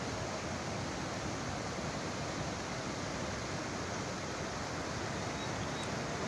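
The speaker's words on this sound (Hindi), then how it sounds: "दरिया में पानी का बहाव काफ़ी तेज़ है।" The fast-flowing Kunhar river rushes under a bridge at Balakot, a loud, steady broadband roar of turbulent water that never lets up, with no voices.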